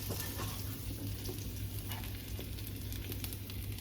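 Vegetable oil sizzles steadily in a frying pan while cooking Arabic rice and shish barak, a continuous close hiss with faint stirring scrapes and a low hum underneath, no talking.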